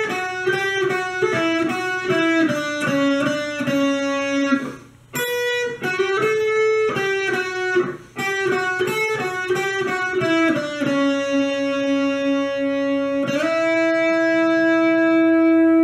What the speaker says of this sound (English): the whole third part of the solo sounds like this.